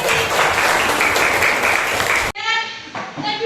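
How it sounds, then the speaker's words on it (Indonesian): Students in a classroom applaud together in a dense, loud burst of clapping lasting about two seconds, which cuts off abruptly into a quieter stretch where a voice is heard. "Ya, tepuk tangan dong polisi."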